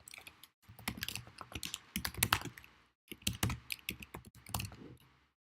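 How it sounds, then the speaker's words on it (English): Close-miked computer keyboard being typed on in bursts of quick, uneven keystrokes, with a brief pause in the middle and no talking. "Do you hear the keyboard much?"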